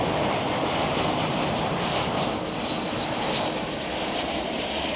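A Boeing 777 at Chicago O'Hare Airport gives a loud, steady engine roar that fills the whole stretch without letup, heard alone with no talking.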